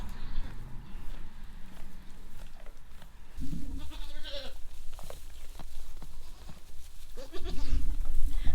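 Goats bleat repeatedly from close by inside a barn, loud calls rising over rustling, shuffling and light hoof steps, with one cry near the middle and more at the end.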